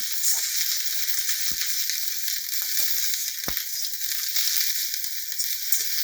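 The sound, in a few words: broccoli frying in oil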